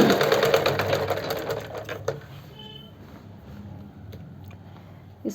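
A sewing machine stitches a kurti along the neckline shape in a rapid, steady whirring run for about two seconds, then stops, leaving a quiet room with a few faint clicks and a last small tap near the end.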